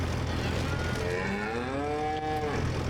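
A cow lets out a long, drawn-out moo with a rising then falling pitch on a farm in Farming Simulator 25, heard clearly over a steady low background hum.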